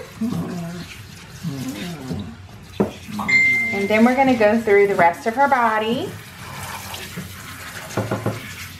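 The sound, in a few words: water poured over a Shih Tzu puppy during a bath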